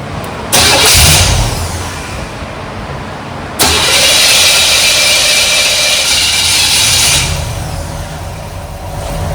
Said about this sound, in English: It always fires off that one quick shot, and then it cranks a little bit before it actually fires off